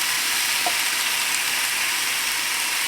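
Precooked shrimp with Cajun seasoning heating in a pan, a constant close, dense hiss of sizzling that stays even throughout.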